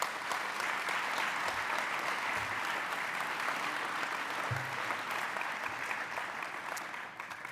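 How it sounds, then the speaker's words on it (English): An awards-ceremony audience at the 2023 Arch Awards gives the recipients a steady, dense round of applause, with a few low thumps scattered through it as the clapping gradually softens. "let's give a round of applause to our recipients"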